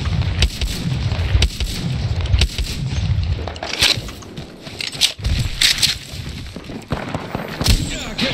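Gunfire in the PC video game Apex Legends: repeated sharp shots and booming bursts in quick irregular volleys, fairly loud, with brief pauses between strings of fire.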